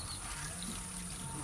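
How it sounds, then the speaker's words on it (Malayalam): Waste water from household drinking-water use flowing out in a steady, continuous rushing stream, moderately loud with no break. "നിങ്ങൾ കുടിക്കാൻ ഉപയോഗിച്ച വെള്ളത്തിന്റെ വേസ്റ്റാണ് പോകുന്നത്."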